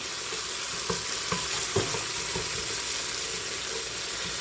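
Vegan carapulcra cooking in a pan, a steady loud sizzle and frying hiss with a few soft stirring scrapes, close up and without talk.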